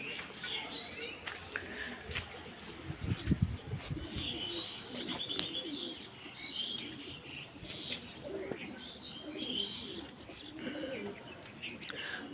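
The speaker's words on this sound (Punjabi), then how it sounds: "ਕਬੂਤਰ ਛੱਡ ਦੇਣੇ ਆਪਾਂ ਨੇ" Several domestic pigeons coo softly and repeatedly in the background of a loft, with scattered chirps and a few bursts of wing flaps or movement nearby.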